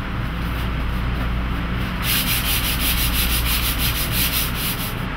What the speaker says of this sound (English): we're going to continue the installation process with a light sanding